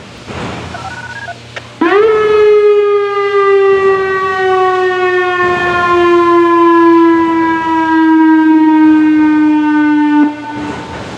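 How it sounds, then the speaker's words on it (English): Outdoor civil defense siren in Copley Park, Ohio, sounds its weekly test: a loud, sustained, slowly falling tone that starts abruptly and holds for about eight seconds before cutting off, heard alone outdoors. "one of their Sirens for the weekly test"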